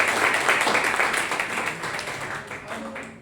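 An audience at an Indian lecture series on traditional knowledge claps together, the applause broad and steady at first, then thinning and fading toward the end.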